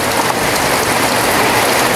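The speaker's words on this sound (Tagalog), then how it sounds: "Salamat sa ulan!" Heavy rain pours down loudly and evenly, a dense continuous hiss of drops striking a surface close by.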